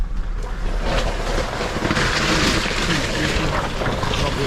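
An off-road vehicle eases through a shallow, solid-bottomed water crossing on a trail, with steady splashing and sloshing close by under a constant wind-buffeted rumble.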